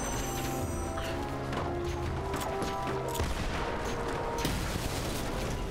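Bomb explosions in Lara Croft and the Temple of Osiris go off as a few sharp, loud bursts over steady game music, with no talking.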